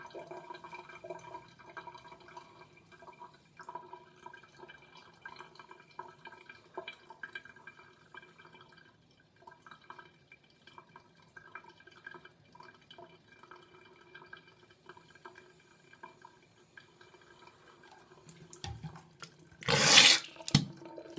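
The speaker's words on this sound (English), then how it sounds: "you need to turn your head to the side and just let it run" Salt water runs out of a nose during a jala neti nasal rinse, a faint steady trickle and drip that lasts throughout and ends in a short loud gush of splashing near the end.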